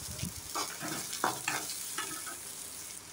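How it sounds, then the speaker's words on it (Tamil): Two chopped onions fry in two ladles of oil in a pan for squid stuffing, sizzling steadily while a spatula stirs them in several scraping strokes, close and fairly quiet. "வானலில் 2 கரண்டி எண்ணெயை ஆட் பண்ணிக்கலாம். கட் பண்ணி வச்சுருக்கிற 2 வெங்காயத்தை சேர்த்துக்கலாம்."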